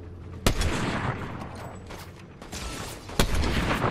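Fortnite zero-build gunfire aimed at an opponent holding a riot shield, heard as two sharp, loud shots about three seconds apart over a steady rumble of game noise.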